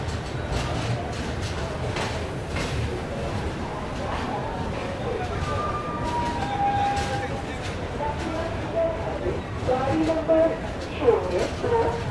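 Muzaffarpur–Bangalore express (15228) pulling out of a station, with a steady low rumble and wheel noise running throughout, rising slightly near the end, while someone talks over it.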